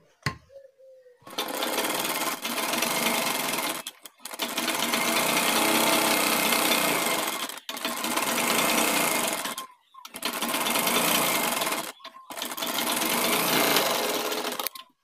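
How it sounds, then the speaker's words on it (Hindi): A sewing machine runs a straight stitch along folded fabric for a shirt collar in five steady, loud bursts, each a few seconds long, with brief pauses between runs. "इस कपड़े पर हमको एक पैर की सिलाई लगा लेनी है"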